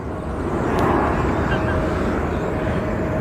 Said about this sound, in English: You get the F18? Yeah. That thing, yeah, dude, for a second I thought, I was like, man, that's a very loud plane.